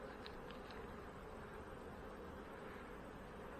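Honey bees drone steadily around a hive, a dense continuous buzz with no voices, fairly quiet and close.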